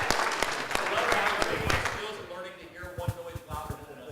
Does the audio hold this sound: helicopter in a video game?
no